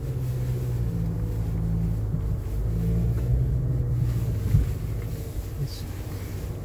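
A Ford Maverick with all-wheel drive drives over hills, mud and dirt on an off-road test track at a festival, its engine a steady low drone mixed with wind buffeting and faint road noise, without talk.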